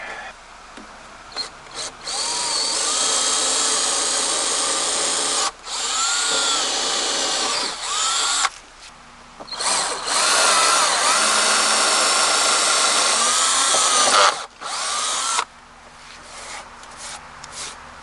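A power drill whirs in several long bursts, loud and close, while installing a new stair railing, with brief pauses between runs and the motor pitch shifting as it bites.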